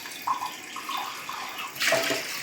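Tap water running to rinse a tea cup, a soft continuous splashing stream with small gurgles, growing slightly louder near the end.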